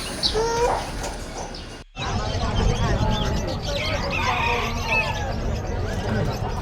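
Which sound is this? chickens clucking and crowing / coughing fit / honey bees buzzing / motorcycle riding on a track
chickens clucking and crowing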